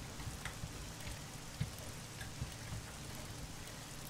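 Steady rain pours down in the survival video game 7 Days to Die at night, a dense even patter with occasional louder drops, heard alone without talk.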